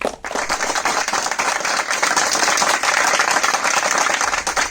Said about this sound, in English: Give a big hand of applause to him.